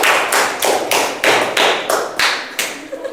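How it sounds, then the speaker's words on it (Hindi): A classroom group claps for a student in a steady burst of about eight broad, even beats, close and loud, with no voices. "इनके लिए एक जोरदार ताली होना चाहिए।"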